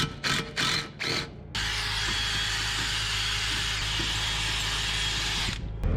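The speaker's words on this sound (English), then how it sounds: "we're gonna drill a new hole and run it" A power drill bores a new hole in a 1959 Chevy. A few short stop-start bursts come first, then one loud, steady, high whine runs for several seconds before it cuts off.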